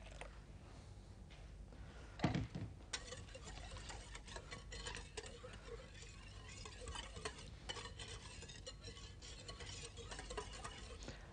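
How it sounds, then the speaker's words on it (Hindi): Cocoa mixture stirred into an egg mixture in a bowl, with soft repeated scraping and clicking strokes of a utensil, close and steady, plus one brief louder knock early on. "और इसे हम अंडे वाले मिक्सचर के अंदर मिक्स कर देते हैं"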